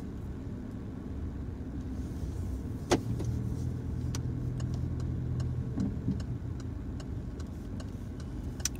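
A car rolls slowly through a car park toward the exit during a driving test in Basingstoke, with a low steady engine and road rumble, scattered light ticks and clicks, and one brief knock partway through.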